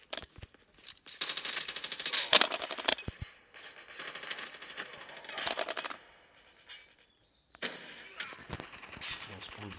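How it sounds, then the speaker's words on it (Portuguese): Bursts of rapid automatic gunfire from a video game team deathmatch, in loud clattering volleys separated by short pauses, with a voice talking over parts of it. "Tô levando tiro nas costas aqui, galera."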